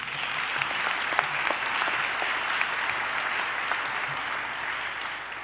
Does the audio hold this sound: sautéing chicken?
no